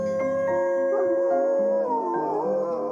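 Several dogs howl together in a long, sustained, mournful chorus of overlapping wavering tones, loud and close, with no voices.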